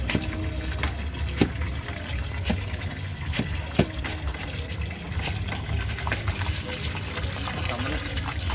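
Water pouring and trickling steadily at a gate-building project outdoors, with sharp knocks and clatters scattered through it and faint talk in the background.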